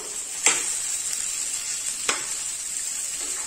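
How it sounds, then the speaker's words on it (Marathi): Potato bhaji stir-fries in a pan with a soft, steady sizzle. Two sharp scrapes of a spoon against the pan break through, close and brief. "आता आपली छान बटाट्याची भाजी परतून तयार झालेली आहे"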